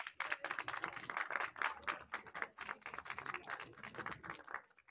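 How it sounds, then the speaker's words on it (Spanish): A book-presentation audience claps to welcome a speaker, producing dense, sustained applause from many hands that carries at a steady level with no talking over it. "Recibámoslas entonces con un fuerte aplauso."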